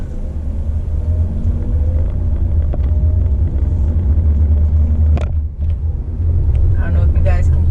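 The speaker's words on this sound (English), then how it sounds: "I don't know if you guys can hear the engine working right now." A car engine running while driving in manual mode in traffic, a deep steady rumble with road noise filling the cabin, a voice talking lightly over it.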